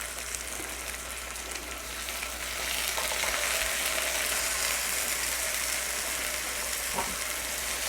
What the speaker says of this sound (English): Just a little saute. We're going to let these cook.